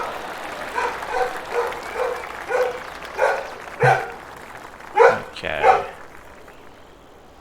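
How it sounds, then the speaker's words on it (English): A house dog barking in the background, a steady series of about ten evenly spaced barks, growing slightly louder toward the end, with a brief spoken word over game ambience. "Might be able to hear the dog going off in the background."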